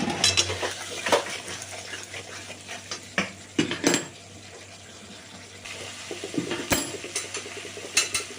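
Spices sizzle gently in a pan while a utensil stirs and scrapes against the metal, producing intermittent clinks and knocks over a low, soft frying hiss during cooking of a small-fish curry.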